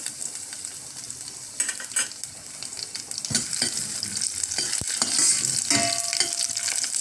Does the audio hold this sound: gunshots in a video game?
no